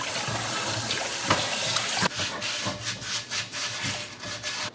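Someone scrapes a cast iron pan while washing it under water, making repeated rough strokes in uneven bursts over running water, close and fairly loud.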